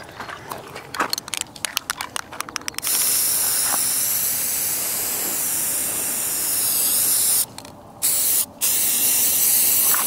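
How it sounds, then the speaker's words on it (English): Aerosol spray hisses in long continuous bursts onto a self-healing shooting target, preceded by quick rattling clicks of shaking the can, with a brief pause and short final spurts; close and loud, no talk. "Didn't really spray it too good, but."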